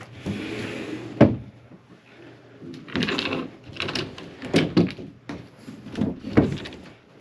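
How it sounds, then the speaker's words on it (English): Pocket doors being slid open inside an aluminum-hull 1987 Jamestowner houseboat: a sharp knock, then several rumbling slides and clunks in irregular bursts, close and moderately loud, with no talking. "now we've got all those doors open"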